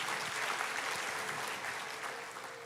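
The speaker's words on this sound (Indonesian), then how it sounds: "Berikan tepuk tangan buat Yesus." A church congregation claps together in sustained applause, a dense, even wash of many hands heard from a distance that holds steady and fades slightly toward the end, with no speech over it.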